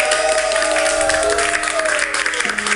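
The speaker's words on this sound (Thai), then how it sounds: "ขอเสียงปรบมือหน่อยครับทุกคน" Group applause in a classroom drama scene, a short, dense burst of clapping under music and a few voices.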